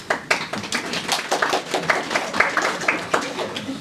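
A few people clap in a room during a tech talk quiz, with distinct, uneven individual claps tapping out an irregular rhythm rather than a full crowd roar.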